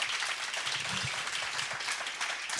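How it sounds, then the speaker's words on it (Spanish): An audience at a panel on child safety online applauds the speakers with a soft, even patter of clapping from a mid-sized crowd, steady and fairly distant throughout. "Ovación para ellos, por favor"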